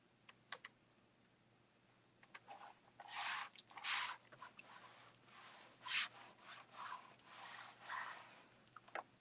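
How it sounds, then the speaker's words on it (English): Burnishing a design onto a screen-printing screen: a quiet series of short scraping rubs in irregular bursts, some longer strokes around the middle, close and faint with no talk. "And I'm just going to burnish this."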